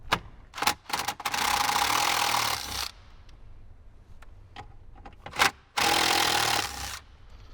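Two 8mm bolts low on a Jeep Wrangler JL dash are run out with a power driver, two loud sustained whirring bursts separated by quieter clicks and handling noises.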